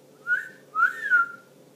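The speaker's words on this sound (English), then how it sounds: "I whistle the same way you whistle. I, like, suck the air in instead of blowing it out" Whistling made by sucking air inward rather than blowing out, heard as two short, clear tonal notes close up with a slight upward glide, alone in a quiet room.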